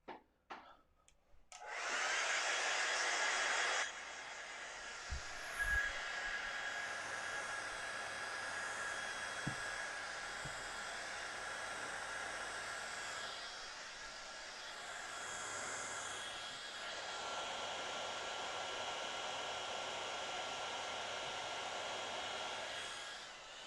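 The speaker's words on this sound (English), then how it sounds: "Cool, now I'll dry it off." A hair dryer blows steadily and loudly for about twenty seconds, a broad airy whoosh that starts abruptly, shifts slightly in pitch partway through, then cuts off at the end.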